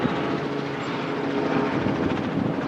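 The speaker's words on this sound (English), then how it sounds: "Helicopter going by." A helicopter's rotor thumps loudly and steadily overhead, a continuous throbbing drone that stays strong throughout.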